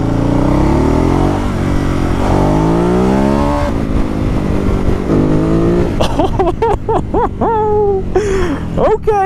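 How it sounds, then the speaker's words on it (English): A stock 2016 Ducati Hypermotard revving up and down close by, rising and falling engine pitch sweeps, then choppier sharp blips of throttle in the final seconds. "That's the exhaust. That's the engine. That's a mean bike, man."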